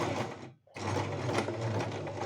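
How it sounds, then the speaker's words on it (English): A sewing machine stitching straight lines runs steadily at close range, a fast even whirr that stops briefly for a moment and then resumes with the same continuous rhythm. "So now we're going to go ahead and start sewing."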